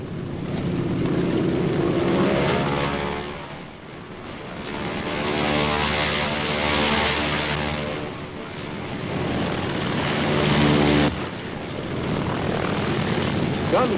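Loud propeller engines of carrier planes roar past overhead in swelling waves over Korea, droning steadily and rising and falling as the planes pass.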